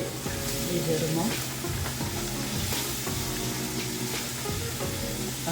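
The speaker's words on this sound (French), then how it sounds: "Donc, on va remuer légèrement." Chicken frying in a pan for poulet DG, stirred with a utensil: a steady loud sizzle with scraping strokes and light clinks, close up, no talking.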